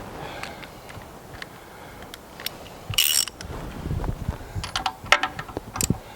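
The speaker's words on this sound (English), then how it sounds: "even though I got this great big wrench, we just barely tighten the plug." A large wrench gives a brief run of small metallic ratcheting clicks and scrapes as it snugs a spark plug on a Fairmont S-2 railroad motorcar engine, quiet and close with a short louder burst partway through.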